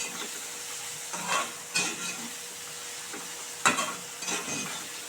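Drumstick leaves sizzle in a hot pan while being stirred, a steady frying hiss broken by several scraping stirs of the utensil against the pan.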